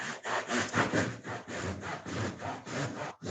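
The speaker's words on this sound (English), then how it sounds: "So you just get a bread knife and just cut it in the middle." A bread knife sawing through the middle of a paper towel roll, a close rasping back-and-forth stroke repeated about a dozen times in a steady rhythm, with no voices.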